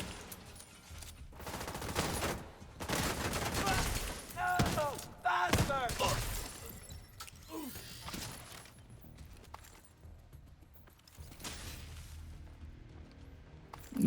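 Video game gunfire: bursts of automatic fire and single shots crack close and loud in clusters, with thuds between, while a player talks over the action.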